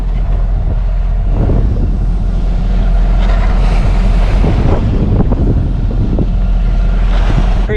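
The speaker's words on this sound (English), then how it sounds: "Like the whole Bay of Biscay is all just crashing into this one little harbor." Sailboat working its way into a rolly harbor on the Bay of Biscay near Bilbao, Spain, with loud continuous wind buffeting the microphone over surging, crashing waves and sea swell, no voices.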